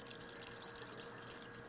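Water pouring into a bucket in the survival game Raft, a steady, soft rushing and trickling that stays even and quiet for under two seconds.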